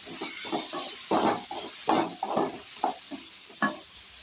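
Onion, chilli, ginger, garlic and tomato sizzle in a pan for chutney, the steady frying hiss broken by a series of scraping stirs with a spoon, close and moderately quiet.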